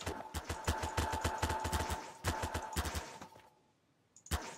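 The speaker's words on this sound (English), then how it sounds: "I bet I can shoot my weld gun faster than you can" Rapid bursts of weld gun fire in the Garry's Mod Flood game, a fast rhythmic string of loud close shots that stops, then a single final shot after a brief quiet gap.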